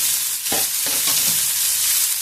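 Frozen peas and chopped tomato cooking with fried onions in a pan: a bright continuous sizzle with several spatula scrapes and stirs near the start, loud and close, no voices.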